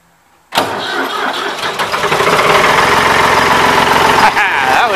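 A 1983 Ford 3910 tractor's diesel engine cranks and catches abruptly after a moment of quiet, then settles into a loud, rough, close-up idle with a steady rattling clatter.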